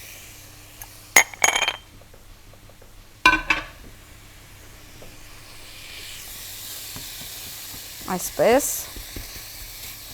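Minced meat for nachos frying in a pan, a low continuous sizzle broken by a few sharp clinks and scraping stirs of a utensil against the pan, while a person speaks briefly.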